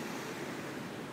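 Waves on the river at Sri Aman, Borneo, heard as a steady, soft wash of broadband water noise with no distinct breaks, faint and continuous.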